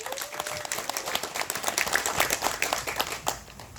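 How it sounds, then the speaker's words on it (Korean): An audience at a community briefing on legal and tax compensation claps to open the meeting, a brief lively burst of applause from a modest crowd. "박수로 시작하겠습니다."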